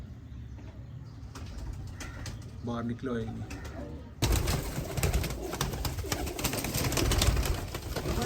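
Sialkoti pigeons at a breeder's loft in Isa Khel, Mianwali coo repeatedly nearby, with someone speaking briefly and a louder burst of rustling noise in the second half.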